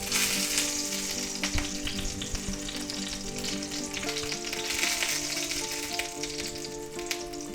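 Steady, loud sizzling of the fatty edges of thick sous vide boneless pork chops searing in a hot pan, continuous throughout with faint scraping and no talk.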